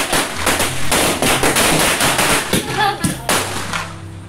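Diwali firecrackers burst in a rapid, crackling string of loud, sharp pops close by, continuing without pause for several seconds.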